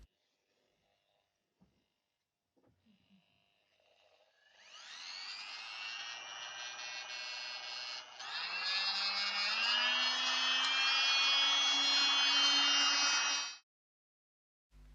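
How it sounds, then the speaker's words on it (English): An electric oscillating multi-tool (220V, 280W) whines into life and runs at maximum speed, a loud, steady buzzing drone that rises in pitch partway through, then cuts off abruptly. "At maximum speed the tool is quite noisy, like a drill."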